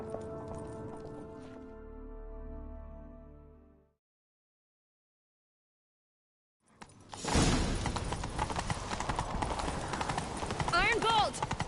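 Horses gallop with busy hoofbeats and rushing movement during a chase in a video game, loud and continuous after a silent gap, following earlier talk and music.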